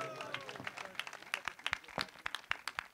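Audience clapping at a local political gathering with bhajan singing in Haryana, scattered uneven claps with distinct sharp hits, over a brief voice at the start.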